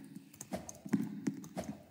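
Horse hooves clop in a video game: a short run of crisp, fairly close hoofbeats at an uneven pace, with no talking over them.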